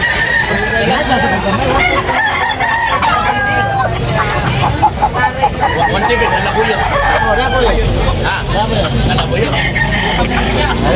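Roosters crow and cluck amid a dense market crowd in Tabunok, Cebu, with steady babble and talk throughout and repeated crows rising over the din.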